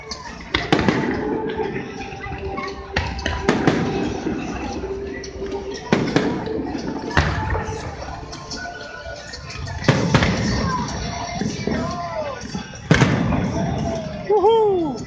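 Independence Day fireworks burst over BB&T Ballpark in Uptown Charlotte, North Carolina, with a series of loud booming explosions every few seconds, crackling tails and whistles between them, while a crowd cheers and people talk.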